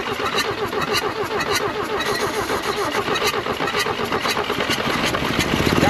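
A rare Toyota pickup engine fitted with a carburetor cranks over in rapid rhythmic churns, sputtering and catching as it strains toward starting, loud and close throughout.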